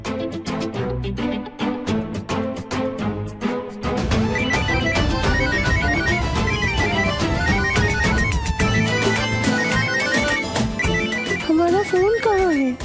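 A phone ringtone plays in a Hindi TV drama, a bright repeating electronic melody that carries through the whole stretch alongside music and other layered sound.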